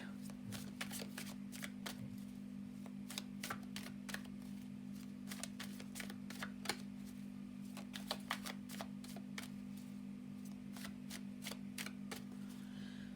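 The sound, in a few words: shuffling tarot cards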